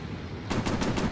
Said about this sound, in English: Machine guns ready.